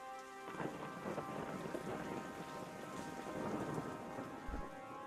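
Storm effect from the Warsaken digital card game in a tournament match, a continuous rain wash with rumbling thunder and a short deep boom near the end, loud and steady with no voices.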